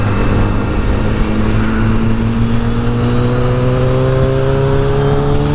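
Kawasaki motorcycles, a ZX-10R among them, pull away with rising engine pitch as the bikes accelerate, their loud exhaust drone climbing steadily over a few seconds.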